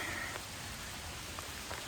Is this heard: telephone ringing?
no